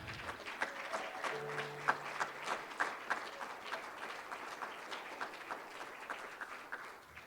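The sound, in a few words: applause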